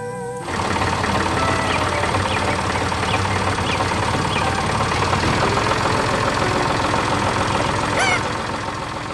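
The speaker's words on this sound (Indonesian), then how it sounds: "Dengan suara mesin yang tenang, traktor itu menggerakkan tanah dan menanam kehidupan baru." A yellow tractor's engine runs steadily as it moves slowly through a green forest, a continuous even rumble with busy cartoon sounds layered on top.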